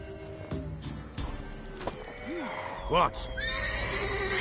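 In a video game, a horse neighs in a bright rising-and-falling whinny over continuous game ambience and scattered hoof clip-clops, with a brief spoken word partway through.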